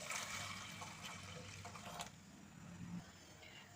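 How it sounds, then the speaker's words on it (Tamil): Water from a vessel is poured into a cooking pot of sambar, giving a faint, splashing trickle for a couple of seconds that tapers off into quiet. "இப்போ ஒரு செம்பு தண்ணி ஊற்றிக்கிடுவோம்."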